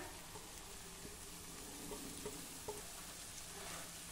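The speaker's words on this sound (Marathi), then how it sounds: "आता यामध्ये ही बारीक कापलेली कांदापात घालूया।" Finely chopped spring onions dropped into hot oil with a fried masala paste in a Khandeshi home kitchen, giving a soft, steady sizzle with a few faint stirring taps, alone and fairly quiet.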